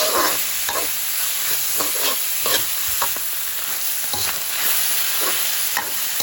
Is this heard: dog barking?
no